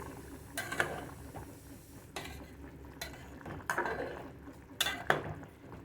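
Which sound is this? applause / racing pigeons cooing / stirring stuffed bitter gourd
stirring stuffed bitter gourd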